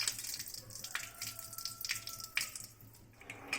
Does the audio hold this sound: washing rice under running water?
yes